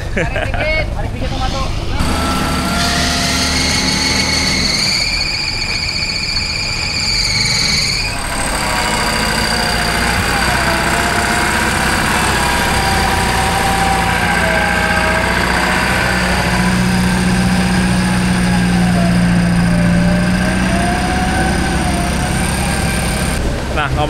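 An off-road car's engine runs in swamp mud during preparation for the Kalimantan Tribute 2026, a loud continuous drone with rising and falling revs, heard close up throughout.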